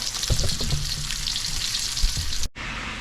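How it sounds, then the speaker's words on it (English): Oxtail pieces brown in a hot pan with a steady, close sizzle and a few spatters, broken by a brief silence near the end before the frying resumes. "I finished the browning process."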